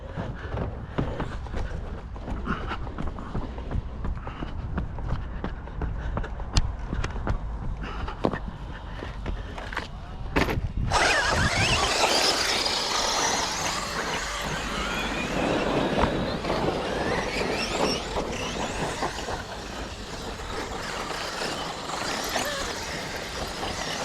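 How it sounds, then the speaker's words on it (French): A small electric RC car motor, an E-Revo with a 13-tooth offset pinion, whirs and whines steadily, growing louder and rougher about halfway through, with gusty wind noise buffeting the microphone. "Là tu entends qu'il mouline le moteur"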